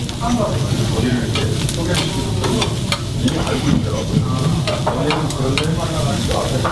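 Fatty Korean Jangsu beef sizzles loudly over a charcoal grill, a dense continuous crackle and spit of rendering fat with sharp pops, heard up close.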